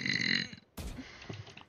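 A loud, close, drawn-out belch from a streamer in a burping compilation, followed by a sharp break and a stretch of low rumbling noise and faint movement.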